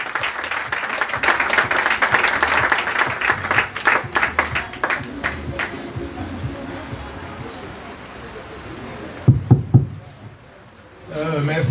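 A crowd at an outdoor political conference in Port-Gentil, Gabon, cheers and applauds Jean-Rémy Yama's arrival, with dense clapping that thins out, then a few louder claps and a voice near the end.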